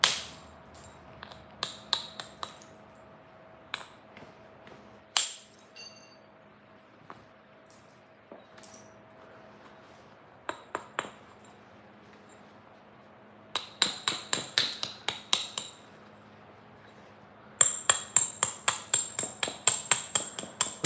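Flint knapping during a live session on the Gulf Coast: sharp stone-on-stone strikes beveling a flint edge, scattered single taps at first, then two quick rhythmic bursts of repeated clicking blows, close and clear with no talk.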